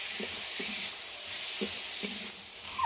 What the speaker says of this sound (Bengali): ডালটা সব কিছুর সঙ্গে 2 মিনিট মতো কষিয়ে নিতে হবে।